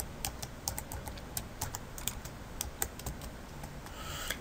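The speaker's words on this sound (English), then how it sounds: "left-click in the Google search bar and type in" Rapid typing on a computer keyboard as text is entered into a search bar: light, close clicking keystrokes in an irregular rhythm, heard alone over a faint background hiss.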